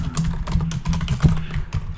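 Rapid typing on a computer keyboard while coding a Laravel web app, the key clicks coming in a steady, busy stream close to the microphone with a low hum underneath.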